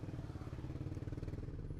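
A motorcycle fitted with an aftermarket Proliner exhaust gives a steady, low, throbbing engine rumble, fairly faint and with no voices.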